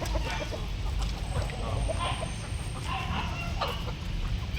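Country chickens cluck steadily in a noisy farmyard, several birds overlapping in short bursts with a faint high whine behind them.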